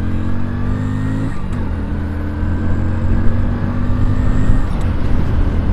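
A Hero Splendor BS6 motorcycle pulls hard through its gears during a top speed run, a steady engine drone with rising pitch and continuous wind and road noise, close and loud.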